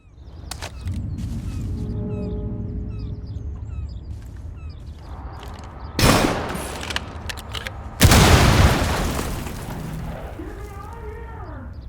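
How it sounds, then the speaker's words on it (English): In the Rainbow Six Siege video game, a breach charge fires at a shipping container, setting off a sudden loud blast followed by a second heavy burst, amid game ambience and scattered tonal effects. "When you fired at it with Ash's breach charge, this would happen."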